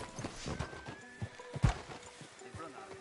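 Horse hooves clip-clop and a horse whinnies in Red Dead Redemption II, the steady hoofbeats close by with a sharp neigh partway through, while a game character talks over them.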